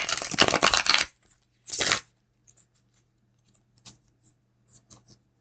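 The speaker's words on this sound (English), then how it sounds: "Okay, one more shuffle and then let's get our card going here." Tarot cards shuffled by hand, a close, crisp riffling burst followed by a second shorter one, then a few faint taps and card clicks in a quiet room.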